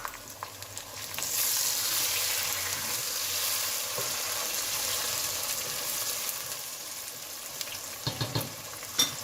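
Large tomatoes hit hot spiced oil for chicken biryani, giving a loud, steady sizzle and crackle with a few stirring clatters toward the end, no talk.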